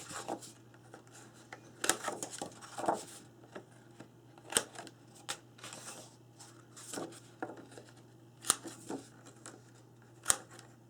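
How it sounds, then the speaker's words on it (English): A corner punch snaps through paper wedding album page corners in a quiet room, a series of sharp, isolated clicks spaced a second or two apart with faint paper rustling between. "So go ahead and punch the corners at a 1/2 inch."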